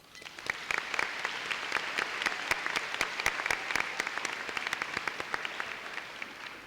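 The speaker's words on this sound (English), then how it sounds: "Let's give our parents a round of applause." A large audience applauds for parents at the Ayden-Grifton High School graduation, a dense steady roar of clapping with sharp individual claps poking through, loud and sustained throughout with no talking.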